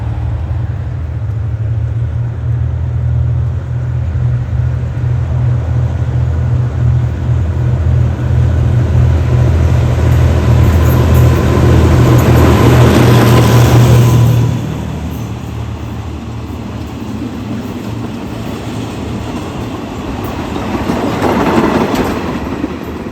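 A State Railway of Thailand freight train, number 701, rolls into Man Luan station on track 1. The engine drones loudly and steadily for about fourteen seconds, then eases off into fainter rumbling and wheel noise as the cars pass.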